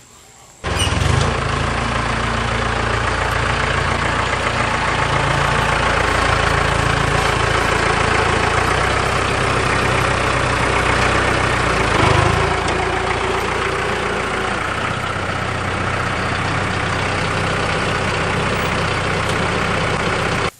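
A gas engine on a Black Diamond log splitter starts abruptly and then idles in a loud, steady, continuous drone close by, with a brief bump in the running sound midway.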